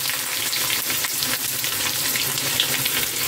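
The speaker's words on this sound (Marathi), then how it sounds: "आता ह्यात कांदे ऍड करून घेऊया." Onions drop into a pan of hot oil already frying whole spices, black and green cardamom with a cinnamon stick, for butter chicken, giving a steady close sizzle and crackle with no one talking.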